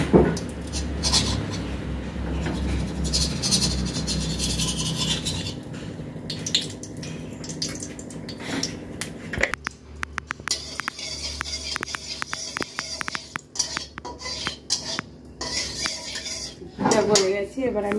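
A spoon clatters and clinks against a pot and wok as a spoonful of ghee is added while cooking whole-potato dum, with dense metallic knocks and scrapes close by and light sizzling between them.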